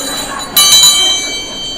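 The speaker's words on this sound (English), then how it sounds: "If you go over that time that I have specified, you will hear the bell." A single bell struck at a community tribute event to mark a speaker's time limit, one bright ringing strike that sustains and slowly fades in a quiet room.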